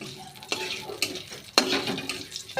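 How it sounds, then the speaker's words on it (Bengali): Bay leaves fry in hot oil in a wok for a jackfruit curry while a spatula stirs them. Sharp scraping and clinking strokes sound over a faint, steady sizzle. "তেজপাতাগুলি নেড়ে নেব"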